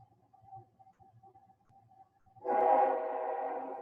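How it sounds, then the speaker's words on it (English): A passing train rises suddenly into a loud, steady horn-like drone with a rumbling rail roar underneath, after a quiet stretch with a faint distant tone. "Sorry about the train"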